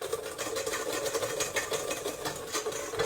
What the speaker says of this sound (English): I tend to get a good amount of froth when I'm bending that whisk